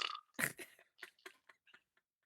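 A voice imitating a fart with a series of blown, sputtering mouth noises, one larger burst followed by several shorter ones that grow fainter and sparser, close and alone.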